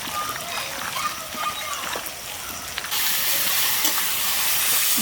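Onions frying in oil in a pan, a steady close hiss of sizzling that grows brighter and louder partway through, with occasional stirring scrapes and a voice talking over it.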